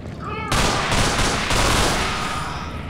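Rapid gunfire bursts from a first-person shooter, the Underhell mod, loud and dense with a sharp onset, overlapping volleys filling the space almost continuously.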